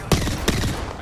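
Gunshots in the video game Apex Legends, two sharp, loud reports about a third of a second apart, each with a short rattling tail, over a low game background.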